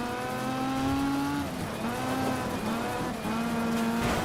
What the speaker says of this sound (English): the sound of a car. And I love myself a good V8.